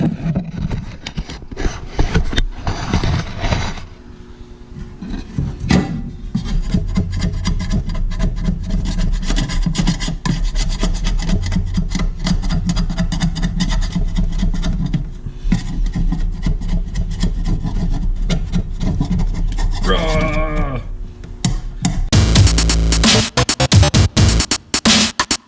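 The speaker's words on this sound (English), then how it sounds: "I'm going to get scraping on this" A part is scraped by hand on a workbench, giving continuous loud rasping and rubbing strokes for most of the stretch, with a sharper, brighter burst of scraping near the end.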